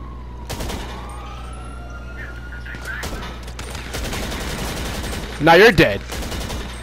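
Bursts of gunfire and wailing police sirens in GTA 5, the sirens sweeping through the first seconds before a loud volley of shots near the end, while a player talks over the action.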